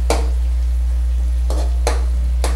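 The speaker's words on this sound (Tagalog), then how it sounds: "At next step na gagawin natin dito, medyo haluin na natin ito ng konti." Spoon scraping in a pot of sardines and water spinach (kangkong), four separate stirring strokes, close and clear, over a steady low hum.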